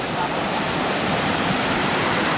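A powerful waterfall pours heavily nearby, making a dense, constant roar of rushing water that does not let up.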